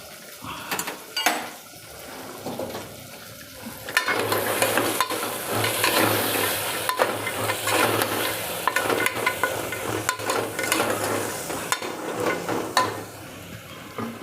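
Vegetables, peas, chickpeas and corn hit hot oil in a pot for khichdi. A few clinks and scrapes come first, then a loud continuous sizzle starts and carries on under occasional stirring knocks.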